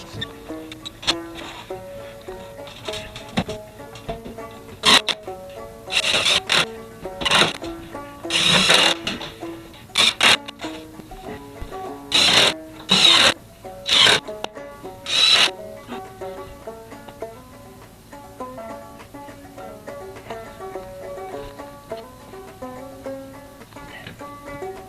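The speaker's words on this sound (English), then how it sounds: "I'll shoot a few screws into that, I think." Power driver shooting screws into a boxed enclosure built around pipes, heard as several short whirring bursts of a few seconds each, near and fairly loud, separated by quieter handling noises.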